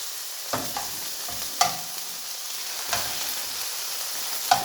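Chicken pieces frying in a pan for a chicken and leek pie, with a steady sizzle and several sharp clatters as the pieces are turned and stirred, heard close with no talking.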